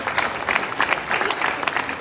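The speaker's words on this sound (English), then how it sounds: "So give a big hand clap for all these children." A school youth parliament audience gives the children a burst of applause, steady clapping from a crowd heard close and fairly quiet, continuing without a break.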